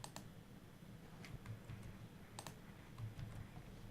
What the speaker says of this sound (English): type in a password that match the required complexity rules